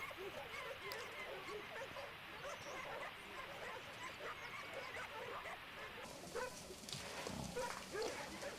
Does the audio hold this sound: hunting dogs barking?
yes